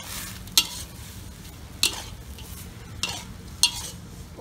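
Small shrimp stir-fried with herbs and fried dried chilies sizzle steadily in a pan, broken by four sharp metallic scrapes of the spatula at roughly even intervals, with no talking.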